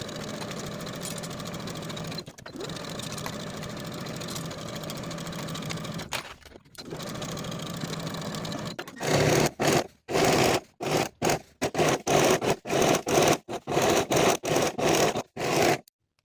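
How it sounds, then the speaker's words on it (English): A sewing machine stitches the side seams of a tiered maxi dress with a 3/8 inch allowance, running in a steady hum, then switching to short, rapid bursts with brief pauses between them. "Sew from the top to the bottom on both sides with a 3/8 inch seam allowance"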